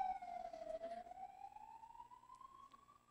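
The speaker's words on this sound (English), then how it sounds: "That fire engine is the most famous fire engine in Poland right now." A fire engine siren wails outside, faint and distant, in one long rising and falling sweep that drifts upward in pitch as the vehicle passes. There is no talk over it.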